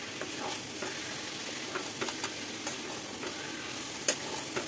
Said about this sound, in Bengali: আলুগুলো মেটে আর মশলার সাথে মিনিট 2 ভালো করে কষিয়ে নেব।